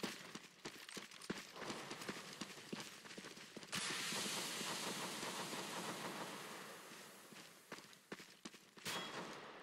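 A smoke grenade in CS:GO bursts into a sudden, steady broadband hiss that fades slowly, preceded by rapid footsteps and clicks, all fairly faint.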